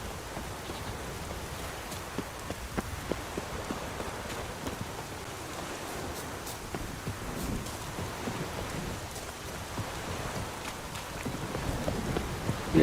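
Steady rain with distant rumbling thunder in a stormy scene from The Witcher video game, a continuous hiss of downpour with scattered drops throughout and no voices.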